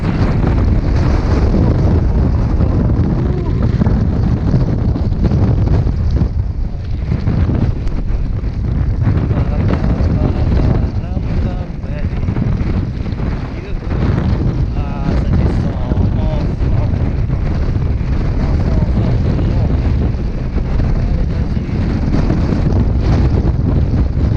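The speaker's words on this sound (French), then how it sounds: "Vraiment le vent." Strong wind roars continuously across the microphone during a gravel bike ride in light rain, a dense low rushing noise that persists throughout with slight gusting swells.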